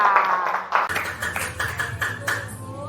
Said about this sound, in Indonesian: Tepuk sekali, 2 kali, 3 kali. Tepuk tangan.